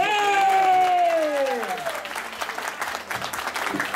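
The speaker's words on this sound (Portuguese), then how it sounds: "Um aplauso." Crowd applause for the organizer at an Italian heritage festival, rising under a fading tonal sound at the start, then steady, close clapping with scattered voices.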